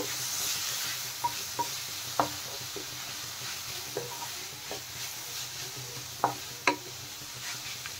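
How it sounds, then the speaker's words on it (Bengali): Vegetables with turmeric and chili powder stirred in a pan give a low sizzle under scattered scrapes and sharp taps of a spoon against the metal, close and fairly quiet, without speech. "হলুদ গুঁড়ো, লঙ্কা গুঁড়ো, ভালোভাবে মশলা এখন সবজির সাথে মিশিয়ে দেব।"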